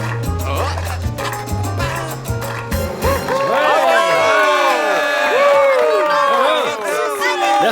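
An audience at a concert cheers the band, with loud whoops and shouts rising over the crowd after a few seconds of low sustained music at the start.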